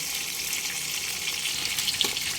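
Fish, katla for a Bengali doi katla, sizzles steadily in hot white oil over a medium flame, a continuous close crackling hiss with a few sharper pops.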